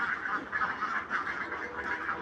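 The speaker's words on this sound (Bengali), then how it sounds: "এখন হাঁসগুলারে দেখেন কিভাবে খায় পারাপারি করে" A flock of ducks eating their evening feed makes a continuous, busy chatter of quacks and nibbling nearby. No voices are heard.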